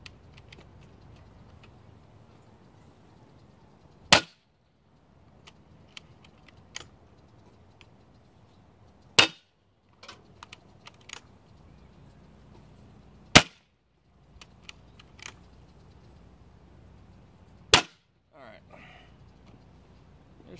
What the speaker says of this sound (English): I'll do a couple of shots here.